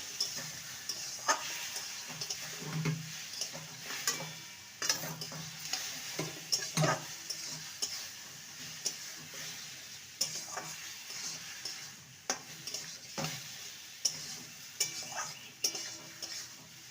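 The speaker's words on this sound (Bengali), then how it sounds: "মেখে রাখা সোয়াবিনটাকে দিয়ে দেবো ভালো করে ভেজে নেব মিডিয়াম ফ্লেমে ভেজে নিতে হবে" Soya chunks frying in mustard oil in a pan over a medium flame. A soft sizzle runs under repeated scraping and tapping stirs, which come in irregular bursts close by, with no voices.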